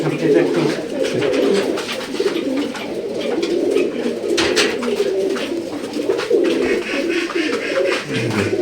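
Royal Teddy pigeons at a pigeon farm in Durgapur, Rajshahi, giving repeated soft, close cooing calls in a steady rhythm, with people talking over them.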